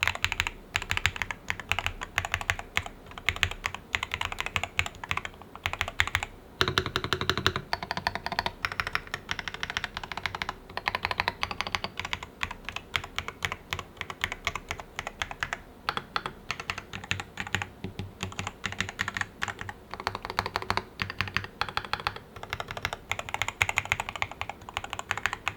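Random keys struck on an Attack Shark R68 HE carbon fiber keyboard, a dense, steady run of crisp clacks and taps close up, with no voice over them.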